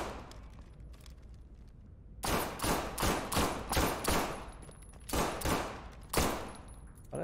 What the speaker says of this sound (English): Yeah, but they're also shooting us.